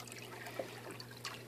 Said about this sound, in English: I've got my pump pumping water in here.